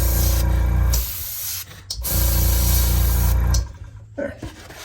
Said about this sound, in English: I'll go over it with a light coat of mist, light misting coat of grime.